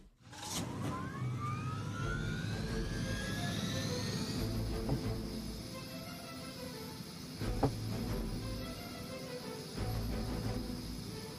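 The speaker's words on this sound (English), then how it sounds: "We can't allow that helicopter to escape." Helicopter in the Marvel's Midnight Suns PC game, a steady loud rotor and engine roar with a rising whine at the start, sustained throughout with a few brief impacts, no talking.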